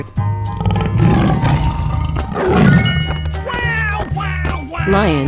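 A tiger in a 3D animal slide video game lets out a loud, drawn-out roar over steady background game music, with a voice briefly exclaiming partway through.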